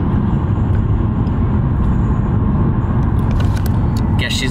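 Steady low rumble of a car interior while driving in traffic, loud and continuous throughout, with a brief brighter rattle near the end.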